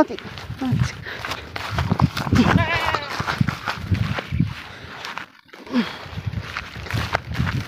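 A goat out on a hillside in rainy weather gives a short, wavering bleat partway through, mixed in with people talking nearby and some shuffling movement.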